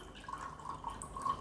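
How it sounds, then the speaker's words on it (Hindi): Water dripping and trickling while soaked chickpeas are rinsed in plain water, faint and close, a soft run of irregular small drips with no voices. "तो यहाँ पे नॉर्मल पानी से हमने ये चने वॉश किए"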